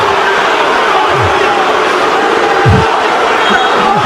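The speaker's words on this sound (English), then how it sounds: "And this crowd going crazy" A college basketball arena crowd roars steadily and loudly throughout, a dense wall of cheering and yelling with faint sneaker and ball thumps underneath.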